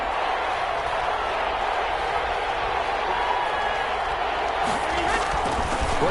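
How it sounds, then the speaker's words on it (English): A stadium crowd in the video game Madden 21 keeps up a dense, steady roar, with a commentator talking over it. "That just means this crowd's going to get even louder"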